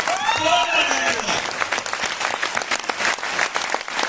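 A large seminar audience of several hundred people breaks into hearty applause, a dense wash of clapping that fills the room, with a voice speaking over the start.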